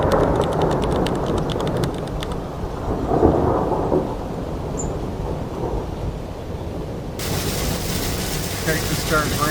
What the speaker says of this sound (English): Texas starts raining, it just kind of dumps it all out as quick as possible all at the same time.